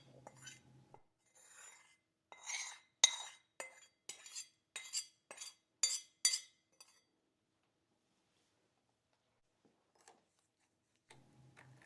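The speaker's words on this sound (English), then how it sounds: "Be sure to scrape the pan to get all that lovely browned bits" A utensil scrapes browned butter out of a pan into a bowl for matcha white chocolate chip cookies, giving a quick run of sharp clinks and scrapes. Quiet stretches follow, with a few faint taps.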